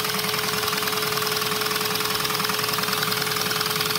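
Small nitro-powered Lego engine built as a 4x6 butterfly i2 running steadily at close range: fast, even mechanical chatter with a constant high whine and dense buzzing, no talk.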